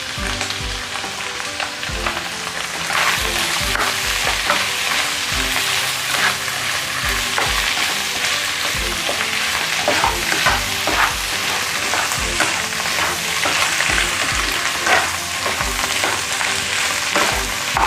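Steady, loud sizzling and frying fills the whole stretch as mushroom soup goes into chicken carbonara cooking in a pan, with occasional scraping stirs and no talk.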